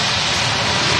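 Airliner jet engines rumble steadily as the aircraft taxis at Manchester Airport, a loud, broad continuous roar holding level throughout the short moment.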